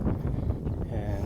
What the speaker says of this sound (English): It is very windy, so I apologize for that.